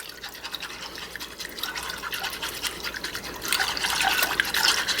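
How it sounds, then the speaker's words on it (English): Lemon pepper wing sauce being stirred in a pot, a steady wet scraping and sloshing that swells louder toward the end, close up with no talking. "Give that a stir."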